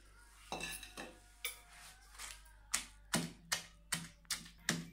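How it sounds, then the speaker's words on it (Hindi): A knife chops finely through onion on a cutting board in a home kitchen, a run of sharp, close, evenly spaced taps that speed up toward the end. "जब तक मैं प्याज को बारीक करती हूँ"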